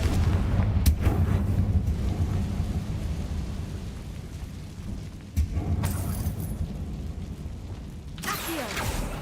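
Fire spell blasts in Hogwarts Legacy boom out as heavy explosive thuds, several separate bursts spaced over the stretch with rumbling tails between them, loud and unaccompanied by talk.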